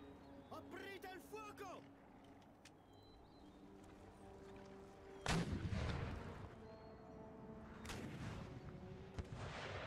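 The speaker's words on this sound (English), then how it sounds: "We'll get all the guns firing." Artillery batteries in the video game Empire: Total War fire in two heavy booms, one midway and another near the end, each trailing off into rumble, over battlefield ambience and a brief tonal game cue.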